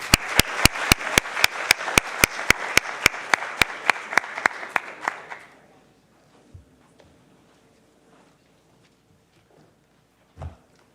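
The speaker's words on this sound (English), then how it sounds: "please, let's a round of applause for our panelists" Steady applause from a crowd at a community meeting, rapid claps for about five seconds before fading into near silence with a couple of faint knocks.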